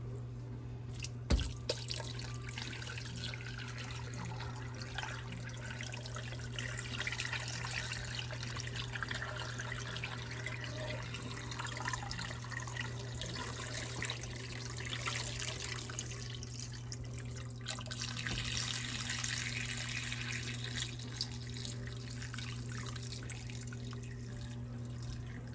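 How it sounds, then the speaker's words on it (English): Water from a kitchen tap runs steadily into a pot for chicken feet bone broth, a continuous close splashing trickle over a constant low hum with no talk. "So now I just need to add water."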